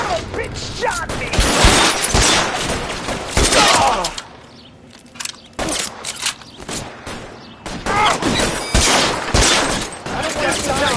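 Video game gunfire in L.A. Noire comes as dense, loud volleys of rapid shots and bursts in a shootout. They stop briefly midway, then start again, with intermittent character shouting mixed in.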